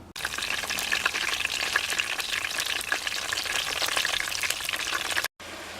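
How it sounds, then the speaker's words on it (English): Haitian griot, chunks of fried pork, sizzle and crackle in a deep fryer with a dense, steady hiss and popping. It cuts off abruptly near the end. "the next step will be to fry it either in your deep fryer or"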